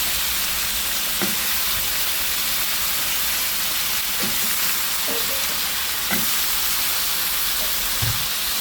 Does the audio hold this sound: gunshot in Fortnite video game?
no